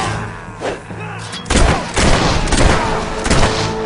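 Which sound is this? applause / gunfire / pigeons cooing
gunfire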